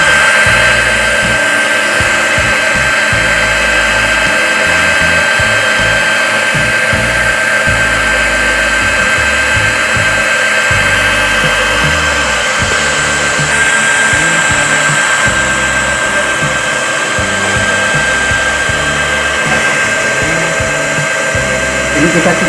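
An automatic six-nozzle filling machine for viscous liquids runs continuously with a loud, steady high-pitched whine and motor hum, with a faint mechanical rattle underneath, close and without talk.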